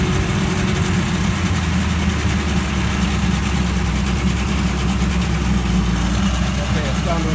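A 1980 50hp two-stroke, four-cylinder, twin-carburetor long-shaft outboard motor idles steadily, a constant low rumble running loud and unbroken throughout.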